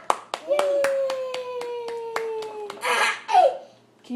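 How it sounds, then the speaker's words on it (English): Young children clap in a few sharp, evenly spaced claps, close and distinct, while an adult voice sings a long drawn-out cheer over them, followed by brief laughter and chatter. "We clap? Yay!"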